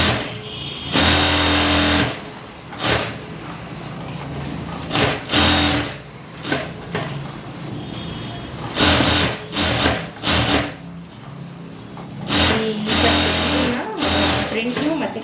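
A sewing machine runs in repeated bursts while attaching a fabric lining, stopping and restarting with short pauses, its loud close whir and rattle alternating with quieter handling of cloth.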